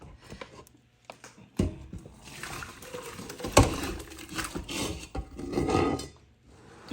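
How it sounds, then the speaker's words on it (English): Soup pours and sloshes into a large soup pot at close range, with scraping and clunks of utensils against metal, no voices. "I'm going to go ahead and pour that over into my big soup pot"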